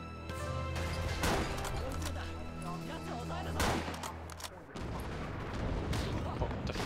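Gunfire in the Rising Storm video game, including bolt action rifle shots, heard as repeated loud cracks and booms over a continuous busy battlefield din.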